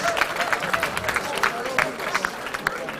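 An audience applauding during a quiz event, irregular clapping with crowd murmur and voices mixed through it, moderately near and steady.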